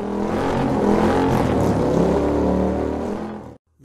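A Moto Guzzi Breva 1200 Sport motorcycle rides along the road, its engine a loud, steady droning hum at cruising speed with wind rush, cutting off abruptly near the end.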